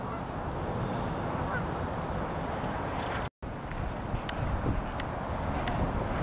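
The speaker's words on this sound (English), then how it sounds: "I hear the geese coming in now." A flock of geese flying in honks repeatedly, faint and distant beneath heavy wind noise buffeting the microphone outdoors, with a brief cut partway through.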